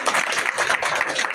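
Audience applause at a local civic gathering in Vidisha welcoming a guest, a dense wash of clapping that stays steady and loud for the whole stretch, with faint voices mixed in.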